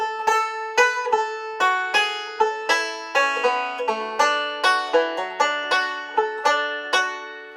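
Bright plucked banjo picking a quick rolling melody from the fiddle tune Ragtime Annie, steady rhythmic notes ringing with sharp attacks, played alone and close.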